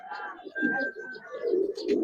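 Giribaz pigeons, a young black-feathered pair with red markings at a Narayanganj seller's, coo in low rolling murmurs nearby, with a faint steady tone and voices in the background.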